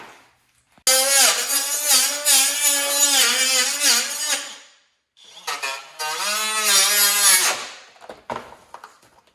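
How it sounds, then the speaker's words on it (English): A Ryobi HP Plus cutting wheel fitted with a plastic disc slices through a skid plate for a 2020 Subaru STI, a loud high-pitched whine in two long passes separated by a brief pause. "So here I'm using this Ryobi HP Plus cutting wheel with a plastic disc that comes with the kit."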